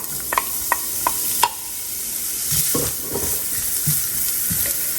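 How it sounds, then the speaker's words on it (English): Carrots, onion and garlic sauté in a couple of tablespoons of oil, giving a steady close sizzle with sharp utensil clicks and scrapes early on, then a denser crackle of frying as the vegetables settle. "We're going to saute this for about 4 minutes"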